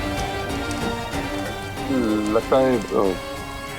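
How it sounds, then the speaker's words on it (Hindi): Heavy rain pours down in a steady, dense hiss throughout the night scene, while people talk over it in the foreground. "ये बारिश रात भर रुकेगी नहीं"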